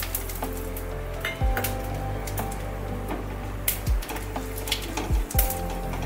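Mustard, cumin and radhuni seeds sizzle and crackle in hot oil with a dense, steady hiss. Sharp pops and clicks from the spluttering seeds break through repeatedly, close and fairly loud.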